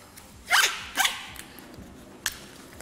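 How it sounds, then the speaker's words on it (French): Sticky tape ripped off a roll and pressed on during a mentalism stage act: two loud, sharp tearing rips close together, then a shorter, quieter strip a moment later. "Kelly, on va continuer à coller du scotch"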